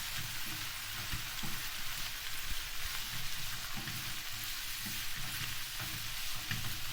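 Chopped pickles sautéing in a pan give a steady, close hiss and crackle with faint scraping stirs, no voices over it.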